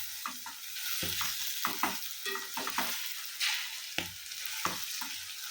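Chillies with ginger and green chillies shrivelling in hot oil in a cheenachatti wok for pickle, with a continuous frying hiss and repeated scraping stirs at an uneven rhythm, near and moderately loud, no talk.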